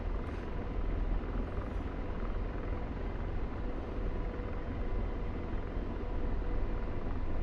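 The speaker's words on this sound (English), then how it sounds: "I think that's a helicopter." Helicopter flying overhead in a flight game, its rotor giving a loud, continuous broadband roar that stays steady throughout with no talk.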